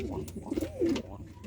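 Capuchine pigeons bred in Jamaica coo in low, throaty, rolling phrases, a couple of close, soft calls over about a second and a half with slight background noise.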